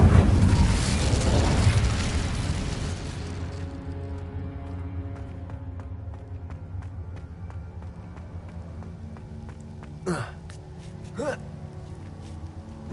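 A fire spell cast in Hogwarts Legacy: a loud roaring burst of flame that fades over a few seconds into a low hum, followed later by two short sharp bursts.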